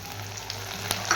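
Chopped onion and tomato fry in a pan with oil for Bengali rui posto, a brief, even sizzle with faint stirring ticks, alone without voices.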